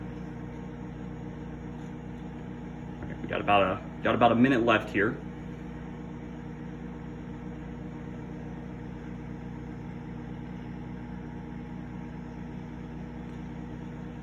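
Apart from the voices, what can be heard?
microwave oven running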